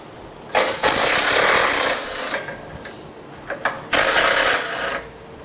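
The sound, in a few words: 13mm socket tool removing bumper brace bolts on Chevrolet HHR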